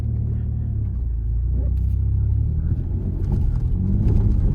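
A Saab 900 engine runs rough with the throttle held flat, a loud, continuous low rumble that stutters and surges as it splutters and revs without pulling away.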